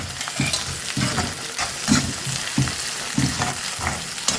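Onion, curry leaves, fennel and cumin frying in a pan for vendakkai pachadi, a steady close sizzle broken by regular scraping stirs about every half second.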